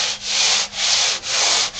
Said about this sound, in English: So the side I'm sanding now is the side that didn't have the tape on it.